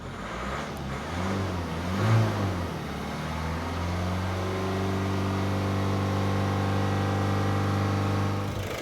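A 2008 Ford Focus engine idling with all electrical loads off, a steady low mechanical hum that holds constant after a brief swell, close and moderately quiet with no talking.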